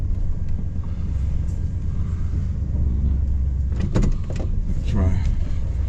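Van with a busted motor idles with a steady low rumble, close and continuous, with a few brief clatters and voice sounds near the end.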